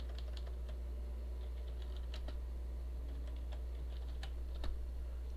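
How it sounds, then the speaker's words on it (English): Steady keyboard typing on a computer, light scattered key clicks running throughout at a moderate pace over a constant low hum, with no voices. "let me just finish typing this in"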